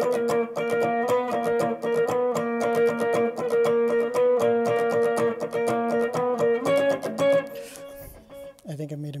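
Lead guitar picks out the chorus melody of Nadie Como Tu, a fast run of clean, bright plucked notes with an even rhythm, close and loud, ending with a few held tones.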